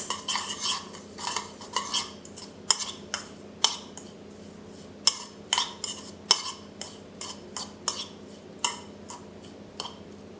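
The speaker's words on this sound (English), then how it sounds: "Stir to mix all the ingredients." A spoon stirring a seasoning mixture of oregano, black pepper and garlic for garlic shrimp in a small bowl, with rhythmic close clinks and scrapes repeating about twice a second, no voices.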